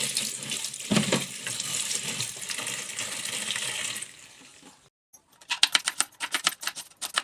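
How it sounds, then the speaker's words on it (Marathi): Cluster beans are washed under a running kitchen tap, with steady splashing water for about four seconds, then a brief pause and a run of short, clattering bursts as the beans are handled in the sink. "घरात आणून गवार स्वच्छ धुवून घेतली आणि कांदा भात सुद्धा धुवून घेतली."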